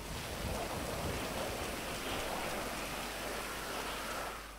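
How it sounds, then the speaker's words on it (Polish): Steady rain falling in the GTA V video game world, a dense even hiss of drops that continues without a break for several seconds, with no voices over it. "W dupie wszystko ma, deszcz tutaj."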